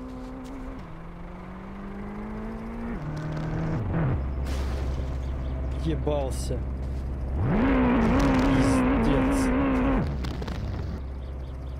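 Engine of a passing rally car, a Pontiac GTO in the driving game My Summer Car, roaring and shifting pitch as it approaches and surges loud before fading, with people talking over it.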